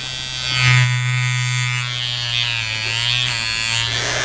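Battery-powered electric toothbrush running steadily, a close, continuous motor buzz with a slight swell near the start and no speech over it.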